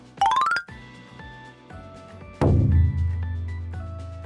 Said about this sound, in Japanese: 鐘を鳴らしたということで、これで水炎の王が出現しますね